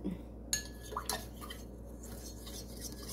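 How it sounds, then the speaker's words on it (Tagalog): A spoon stirs an iced Spanish latte in a glass full of ice and hot water, giving a few light clinks and scrapes against the glass, quiet and close, with no talk. "Stir natin ulit."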